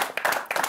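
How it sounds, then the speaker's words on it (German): A small studio audience on a talk show gives a quick burst of applause, a few close, sharp claps in two short clusters lasting under a second. "Kleiner Applaus für Jessica"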